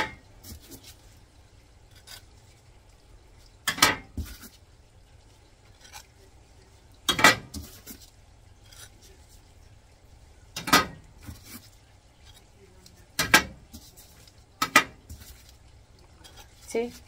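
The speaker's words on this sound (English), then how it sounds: "I'm just going to scrape it from the edges like this." A metal utensil scrapes around the edges of a pan while making inside-out s'mores, in a handful of short, sharp scraping strokes spaced a few seconds apart against a quiet background.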